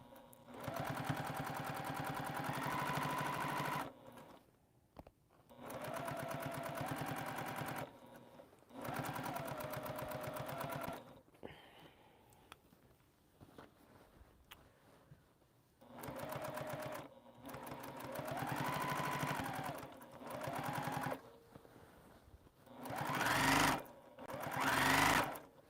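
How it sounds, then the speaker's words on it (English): A sewing machine stitches down the binding on a quilt in a home sewing room. Bursts of fast, even mechanical whirring and needle clatter start and stop repeatedly, close and steady, with short quiet gaps between runs. "Just want to stitch this binding down."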